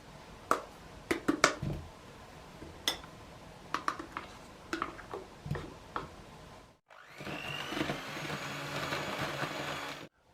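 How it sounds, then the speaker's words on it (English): Butter and sugar creamed for cookie dough with an electric mixer: scattered clinks and taps of bowl handling come first, then a steady loud motor whir runs without a break for several seconds. "cream the butter and sugar for about a minute"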